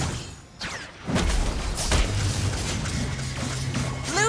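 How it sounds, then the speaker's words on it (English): In a MOBA game, a base turret is destroyed with a deep booming crash followed by rumbling debris and scattered effects, loud and continuous over about four seconds. "Blue team base turret has been destroyed!"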